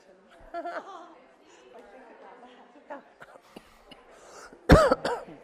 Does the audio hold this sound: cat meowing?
no